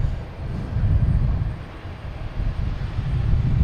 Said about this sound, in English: JetBlue heading to Santo Domingo.